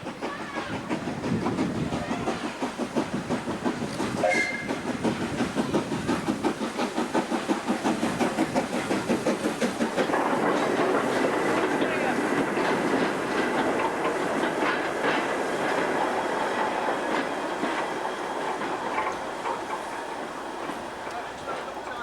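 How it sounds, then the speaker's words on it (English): A freight train passes behind a War Department steam locomotive, the 2-10-0 Dame Vera Lynn, with a long, steady rhythmic clickety-clack of wagons rolling over rail joints, steam hiss, and a steady roar throughout. "they ran a number of special trains, including this freight train hauled by the 210 Dame Vera Lynn."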